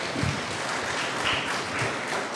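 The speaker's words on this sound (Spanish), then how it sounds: "Fuerte el aplauso, por favor." Applause greeting the head coach at the 2025 squad presentation of Club Atlético Andahuaylas Femenil, a brief, dense, noisy burst of crowd clapping at a steady level.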